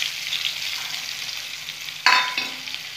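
Crushed garlic dropped into hot oil already tempered with nigella seeds and dried red chilies, a bright, close sizzle that flares sharply near the end with a brief stirring scrape.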